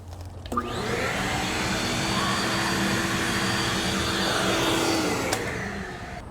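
A power drill whines steadily as it enlarges pilot holes in a pontoon boat deck for a deck receptacle, starting with a sharp onset and holding a constant high-pitched drone for about five seconds before cutting off.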